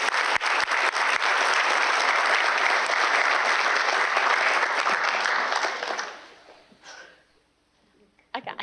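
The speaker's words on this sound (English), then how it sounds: "Let's give our unified schools a great big round of applause." An audience at a school district board of trustees meeting applauds the unified schools, with steady, loud clapping that holds for about six seconds before fading out, then a few faint sounds.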